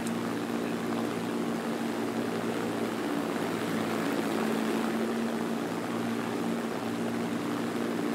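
A Hawker Hurricane's piston engine in War Thunder drones steadily at high power while the aircraft is being pushed hard, a constant loud propeller roar with no gaps.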